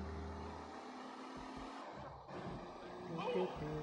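A car engine revs in Grand Theft Auto 3 on PlayStation 2, with a low, steady drone at first that breaks into choppier bursts, then gives way to a busier mix of game sounds.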